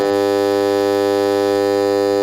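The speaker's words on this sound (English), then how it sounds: "We set off the fog alarm, the foghorn." A foghorn-style alarm blares continuously, a loud steady droning tone with rich harmonics that starts abruptly and holds unbroken, alone with no voices over it.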